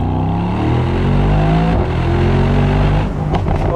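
A Mercedes-AMG SL55 in race mode pulls hard in second gear, its engine roaring loud and close with a rising, sustained note and a brief dip near the end.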